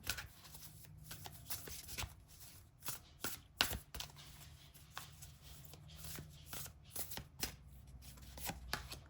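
Tarot cards being shuffled by hand, with repeated crisp riffling bursts and light flapping strokes in an irregular rhythm, close and fairly quiet, with no talk.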